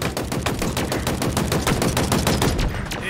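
Rapid, steady machine gun fire in the video game Halo Infinite during a large team battle, sounding as a loud continuous stream of close shots with no talking over it.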